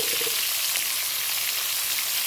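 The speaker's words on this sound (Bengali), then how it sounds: "এবার ঢেকে ঢেকে এটা ভেজে নেব" Pointed gourd (potol) sizzles steadily in a pan of hot oil, a loud, close, continuous frying hiss with no pauses and no voices.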